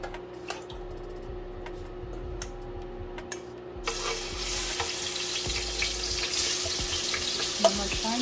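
Shrimp hitting hot oil for a spicy shrimp, sausage and veggie pasta: a few light clicks and taps give way to a sudden loud, bright sizzle that keeps crackling steadily up close, with no speech.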